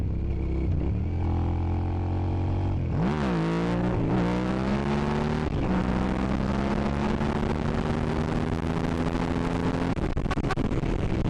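A Suzuki SV650 motorcycle engine revs hard and loud, climbing through gears in a rising whine with brief dips at shifts, accelerating rapidly under constant wind roar with no talking.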